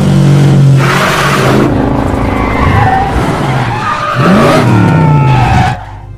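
A prized car skids and revs hard at an airport, tires squealing in long sweeping screeches over a roaring engine, loud and close, with bursts of acceleration before the noise drops away at the end.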